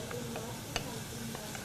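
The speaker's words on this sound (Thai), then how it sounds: "หลังจากนั้นก็ตามด้วยหอมแครอทเซเลอรี่แล้วก็กระเทียมผัดให้หอมดี" Onion, carrot, celery and garlic are stir-fried in rice bran oil in a pot. A soft, continuous sizzle runs throughout, broken by brief scraping clicks from stirring.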